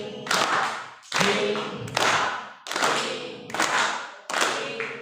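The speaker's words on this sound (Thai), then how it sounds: "ให้ปรบมือเป็นจังหวะแบบนี้ด้วย" Groups of hands clapping together in a steady rhythm, five sharp bursts of applause-like claps evenly spaced, fairly close.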